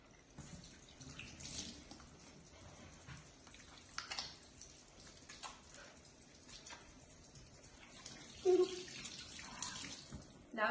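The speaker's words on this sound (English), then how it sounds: "you need to wash your hands" Running tap water splashes steadily as hands are washed at a kitchen sink before making pancakes, a soft continuous wash of water with small bumps and splashes, close and fairly quiet.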